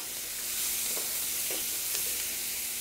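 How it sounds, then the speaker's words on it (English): Onions sauté gently in a pan for osso buco, giving a steady soft sizzle with a few faint stirring clicks, heard close and alone with no talk. "Want the onions to become a little bit tender, not brown, just a little tender."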